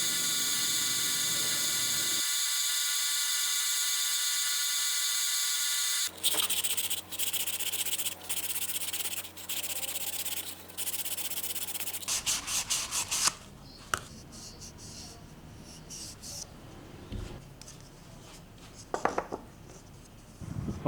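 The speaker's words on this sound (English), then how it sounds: "So I make this chamfer." A dust collector pipe edge is chamfered by hand with short scraping and rubbing strokes, quiet and close, broken into uneven bursts with pauses and a constant hum in the background.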